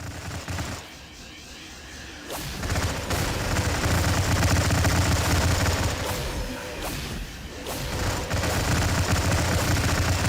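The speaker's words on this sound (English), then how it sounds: "Artillery." Artillery fire in the strategy game Stargate Empire at War, heard as a dense, loud barrage of booming blasts and rapid shots that carries on steadily across the whole stretch with no voices over it.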